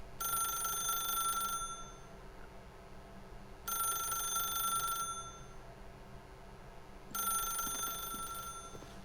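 A telephone rings in The Stanley Parable video game, three long bursts of bright electronic bell ringing about a second and a half each, separated by pauses, over a low steady room hum.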